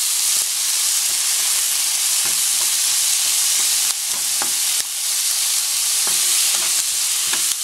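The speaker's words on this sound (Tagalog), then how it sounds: "Haluin lang natin ganyan." Sautéed shrimp paste (bagoong) stirred in a pan for ginataang kalabasa with string beans and shrimp, a loud continuous hiss of frying with scraping stir strokes close up throughout.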